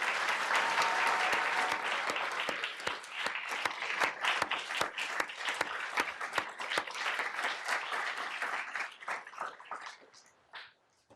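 Applause breaks out in a city council chamber for the vice mayor and council members: dense clapping from a room of people, loud at first, then thinning into scattered individual claps before fading out.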